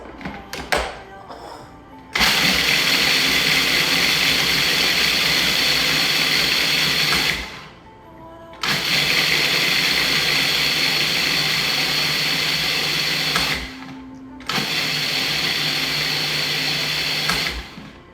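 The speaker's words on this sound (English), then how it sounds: "2 cups of granola into the food processor." A food processor grinds granola loudly in three long bursts separated by brief pauses, with a steady whirring motor drone.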